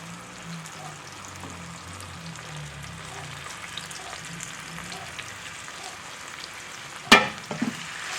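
Okra searing in hot oil in a cast iron skillet, a constant crackling sizzle throughout with a faint voice and a sharp clatter near the end.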